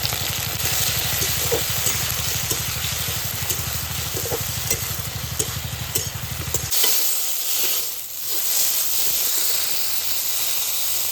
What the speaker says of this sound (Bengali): ভেন্ডিগুলো আমি হালকা ভেজে নেব